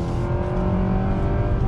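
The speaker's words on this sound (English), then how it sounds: "Back on throttle." A 2020 Nissan Sentra SR engine accelerates back on throttle with a loud, steady drone that holds close up throughout.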